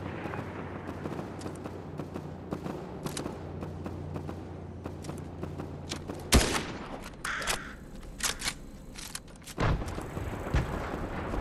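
Video game gunfire crackles as rapid repeated shots, sparse at first and then heavier bursts with booming impacts, fairly loud and alone without talk.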